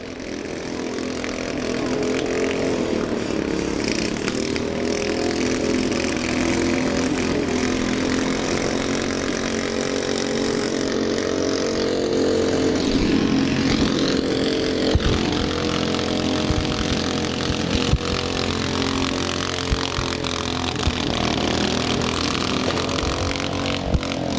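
Several small lawn mower engines in a mower demolition derby run together in a steady, loud, buzzing drone that continues without pause for the full stretch, with occasional knocks from impacts.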